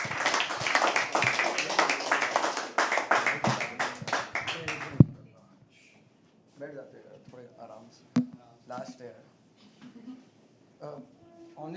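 Audience at a live poetry open mic claps and cheers for about five seconds, dense applause that stops abruptly, followed by quiet room with scattered talk and a single loud knock.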